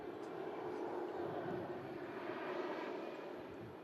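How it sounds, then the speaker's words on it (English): A Ryanair airliner arriving from Malaga makes a steady, broadband jet-engine roar at moderate distance, holding constant throughout without breaks or talk. "This Ryanair just arrived in from Malaga."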